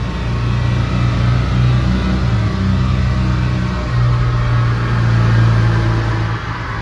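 A remapped car accelerating in sixth gear at about 180 km/h, a loud, sustained engine drone with a steady low tone that rises slightly in pitch and holds, heard from inside the cabin.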